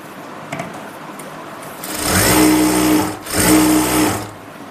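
A sewing machine stitches the back seam of a palazzo in two close, loud runs of about a second each with a short pause between, and no one talks.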